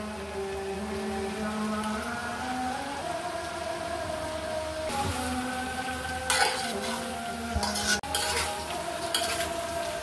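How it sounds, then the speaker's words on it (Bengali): Vegetable pasta with fresh coriander leaves being stirred in a hot pan, a steady sizzle with light scraping and a few sharper utensil knocks against the pan near the end, with background music playing throughout. "ভালো করে একটু নেড়ে চেড়ে দিতে হবে।"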